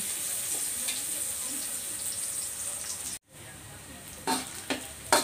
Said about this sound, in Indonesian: kita goreng sampai warnanya kekuningan baru kita masukin santan